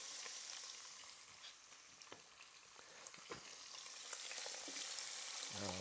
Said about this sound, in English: we're going to lower those ribs right into that pan. And then you can start on hearing that'll sear.